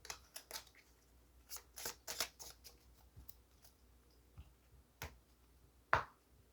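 Tea leaf oracle cards being handled during a reading, giving a series of sharp, close snaps and light flicks at irregular intervals with quiet gaps between, ending in one louder crisp snap.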